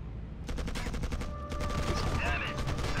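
Dense gunfire from the real-time strategy game Act of War: Direct Action, with overlapping rapid bursts and volleys of shots, a continuous battle din that stays loud throughout.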